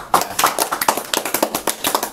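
Audience applause for guest speakers at a coffee-themed talk event, heard as a short burst of close, crisp hand claps with a steady, lively rhythm and no talking over it.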